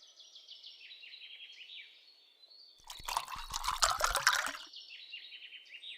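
Water drawn from a village well is poured out in a splashing, dripping burst lasting about a second and a half, with bird calls chirping steadily before and after.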